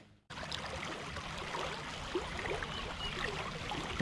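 A Tennessee creek flows in a constant, moderately loud rush, broadband and steady after a short quiet start, with no talking over it.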